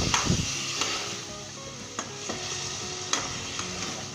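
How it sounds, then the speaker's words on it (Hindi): Washed mutton pieces fry in a pot with ginger, garlic and onion for a chinioti kunna, giving a steady sizzle broken by sharp knocks and scrapes of a spoon stirring against the pot, close and without talk. "अब हम इसके अंदर जो है गोश्त जो हमने धो के रखा हुआ है ये शामिल कर देंगे।"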